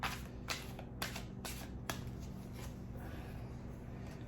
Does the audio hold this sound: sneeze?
no